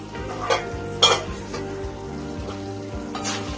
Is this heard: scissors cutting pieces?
no